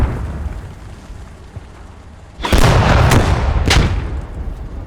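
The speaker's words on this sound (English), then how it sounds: "Our mortars are active" Mortar rounds in the tactical shooter Squad boom in a quick cluster of heavy, close blasts with a rumbling tail, after a stretch of low ambient noise.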